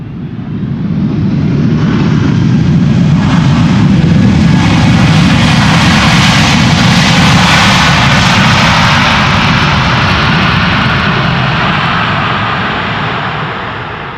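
A passenger airliner lands at Schiphol Airport, its jet engines building into a loud, continuous roar as it passes close overhead, then slowly easing off, with no talk over it.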